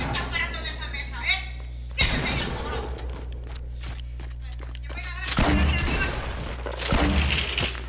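Gunfire from the Fortnite video game, bursts of shots and impacts popping in around 2 seconds and again near 5.5 and 7 seconds over a steady game background, with talking throughout.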